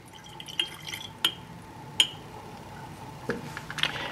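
Water is poured into laboratory glassware for an iodine clock reaction, heard as a few faint, sharp drips and clinks spaced through a quiet background.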